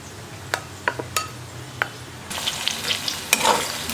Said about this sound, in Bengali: এরকম অল্প অল্পই ভাজা হবে পেঁয়াজটা